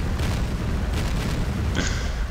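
A grenade goes off in a video game with a deep, rolling boom that fills the moment with heavy low rumble, followed by a brief brighter crackle.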